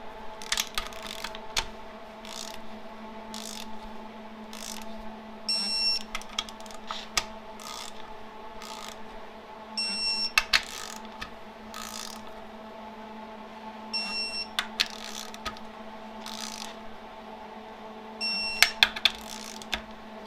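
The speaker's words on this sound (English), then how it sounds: "Now we'll take our torque wrench. These will get torqued down to 9 foot-pounds." A torque wrench tightens the transmission pan bolts on a 4L65E transmission from a 2005 Pontiac GTO, sharp metallic clicks in several separate bursts over a quiet workshop hum, with no talk.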